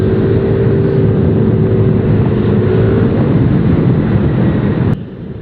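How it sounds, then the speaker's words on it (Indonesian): A Yamaha Aerox 155 scooter engine drones steadily under acceleration on a morning ride in Bogor, mixed with loud wind rush, then drops sharply as the throttle is released near the end. "Tadi gue narik itu nggak nyampe bener-bener gaspol sampai ujung mentok, tapi tarikannya itu berasa dari bawah sampai ke atas."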